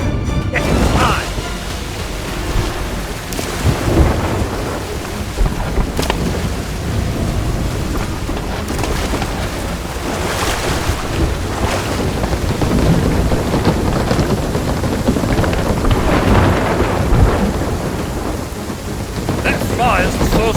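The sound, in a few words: thunderstorm with lightning, from video game Sea of Thieves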